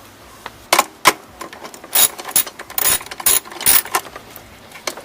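Ratchet wrench clicking in short bursts while loosening a car battery terminal bolt on a Mazdaspeed 3, sharp metallic ratcheting strokes with brief pauses between, close and fairly loud with no talk.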